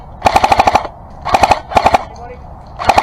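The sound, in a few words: Matrix M4 LMG airsoft gun firing suppressive fire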